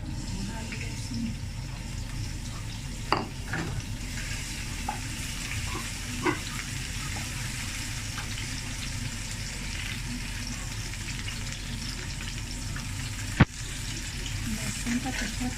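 Garlic, about a tablespoon, sizzles steadily in a pan while Chicken Manchurian is cooked, a constant frying hiss with a few faint clinks of stirring.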